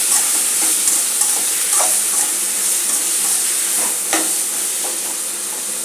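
Tomato, onion, garlic and green chili are stirred and sautéed in a pan for a Tamil kathirikkai murungakkai puli kuzhambu. A steady close sizzle and frying hiss runs throughout, with the spoon scraping the pan at irregular moments and no talking.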